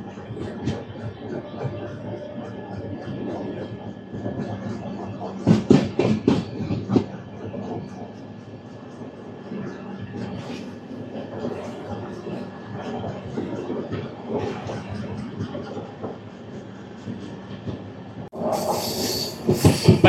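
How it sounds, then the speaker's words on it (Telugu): A goods train rolls past on a bypass track beside lines heading toward Visakhapatnam, giving a continuous loud rumble of wheels and wagons with a few heavier knocks and a sharp hiss near the end. "బైపాస్ నుంచి గూడ్స్ ట్రైన్ వస్తుంది."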